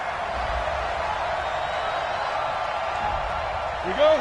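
Crowd noise in an American football video game, Bengals at Steelers, reacting to a penalty with a steady, fairly loud roar of disapproval that holds throughout, with no speech over it.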